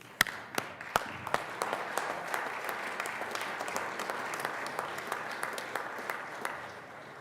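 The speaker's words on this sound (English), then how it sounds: "could you guys stand up and we give you applause" Steady applause fills the Colorado Senate chamber, many hands clapping continuously with a few sharp, louder claps near the start, no voices above it.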